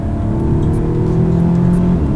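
A 2016 Audi S3 turbo engine accelerates hard in third gear, a loud, steady drone that climbs in pitch, heard from inside the car with no voices.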